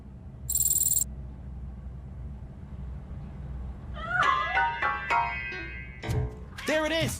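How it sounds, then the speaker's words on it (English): A cat hidden inside a piano meows several times in short, rising calls near the end, after a brief high electronic tone near the start; the cries are moderately close and stand alone without talk. "That cat must be hiding inside."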